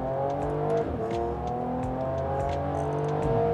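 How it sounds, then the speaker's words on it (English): A Mercedes-AMG E 53 4Matic+ engine revs with a deep throaty exhaust, pitch climbing and falling in repeated surges, loud and close throughout. "let me just give you a short trailer of what the exhaust sounds like"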